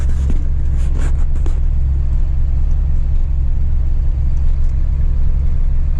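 A tractor pulling a hay rake gives a loud, steady low engine rumble that runs unbroken throughout, with a few brief knocks near the start.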